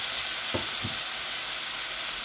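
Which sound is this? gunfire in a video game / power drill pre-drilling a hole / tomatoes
tomatoes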